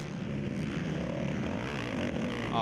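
An ATV racing engine at Loretta Lynn's ATVMX Championship drones at low RPM through a corner, a steady, fairly loud rumbling buzz with no speech.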